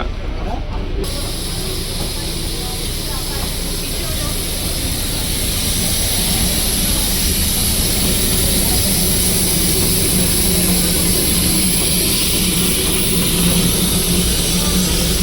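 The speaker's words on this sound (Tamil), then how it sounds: "அங்கே தான் ஸ்டீம் இன்ஜின் கிளம்புது." A loud, steady roar of hissing steam and rumbling engine noise from a coal-fired steam locomotive in Darjeeling runs without a break. It stays broadband and constant, close by.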